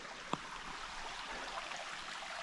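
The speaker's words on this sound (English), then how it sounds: "That is 3 waterways pouring into this." A creek fed by three small waterways pouring into it, giving a steady, soft broadband rush of trickling water with a brief faint knock near the start.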